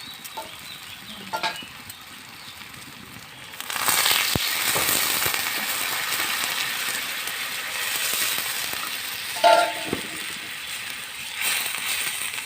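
Water poured into a spiced prawn and jackfruit curry frying in a pan, setting off a loud burst of hissing sizzle that continues steadily with a few clinks of a utensil.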